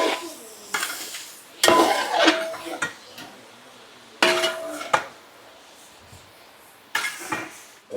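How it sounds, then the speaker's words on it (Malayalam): A spatula stirs green chilli and tomato in a metal pan with loud scraping, clattering bursts and quiet pauses between them. "ഇനി ഇച്ചിരി പച്ചമുളകും തക്കാളിയും കൂടി ഇട്ട് ഒന്നുകൂടി ഒന്ന് ഇളക്കി"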